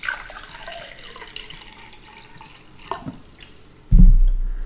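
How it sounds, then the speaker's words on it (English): Water splashes and trickles across a desk, with a faint dribble early on, then a sudden loud gush that tails off into spattering. "Spilling water all over my desk like a true monsoon."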